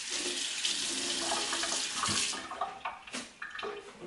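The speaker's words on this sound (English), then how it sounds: "I'm just going to rinse this." A running kitchen tap rinses something during summer salad preparation, giving a steady, close water hiss that shifts into uneven splashing and sputtering near the end.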